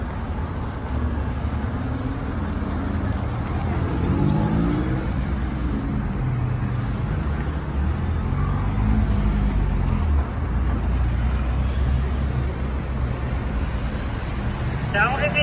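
A car pulls up at a police roadblock on a road, its engine rumbling steadily and fairly loud close by, with traffic noise around and voices talking over it.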